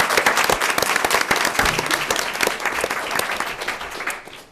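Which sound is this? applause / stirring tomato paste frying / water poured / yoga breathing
applause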